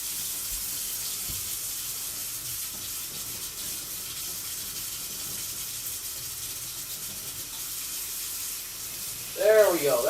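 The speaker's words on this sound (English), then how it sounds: "Just gotta get the water to heat up." Water runs steadily from a tap on a well-water supply fed by an old boiler, a continuous hiss under faint room noise until a brief splashing change near the end.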